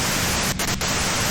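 Dense, loud radio static hiss from the Disco Elysium game, a steady wash of white noise with two brief dropouts breaking it midway.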